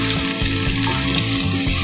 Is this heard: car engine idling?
no